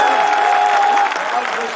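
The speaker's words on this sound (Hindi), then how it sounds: "एक बार जोरदार ताली बजाओ यार" A crowd at a Hindi poetry recital breaks into loud, sustained clapping, close and dense, with a few voices calling out over the applause before it eases slightly at the end.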